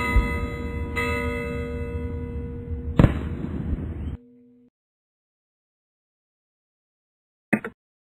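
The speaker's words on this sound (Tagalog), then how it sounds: "sa saliw ng nakatutulig na paputok at umaalingaw-ngaw na dupikal ng mga kampana" Church bells ring with sustained tones during a religious procession amid firecrackers. One sharp bang lands midway, the ringing cuts off, and a brief distant crack follows after a long silence.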